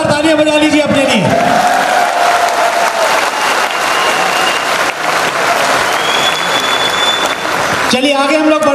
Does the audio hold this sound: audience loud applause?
yes